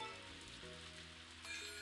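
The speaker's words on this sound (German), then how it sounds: "Ein bisschen Regen hat ja noch niemandem geschadet." Rain falling on a farm in the video game Story of Seasons: A Wonderful Life, a soft steady patter under tonal background music, with no talk.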